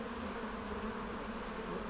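Honeybees buzzing steadily around hive frames at an apiary, a continuous close drone with no talking.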